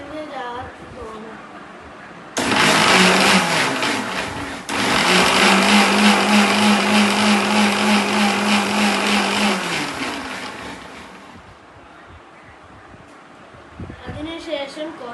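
A kitchen mixer grinder blends tender coconut flesh, coconut water, milk and sugar in its jar, starting abruptly with a loud, steady whir that runs for several seconds and then winds down to a fainter hum.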